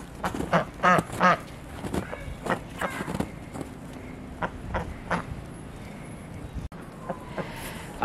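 Ducks out in the snow give several loud, nearby quacks in short bursts, with soft footsteps and quiet background movement between calls.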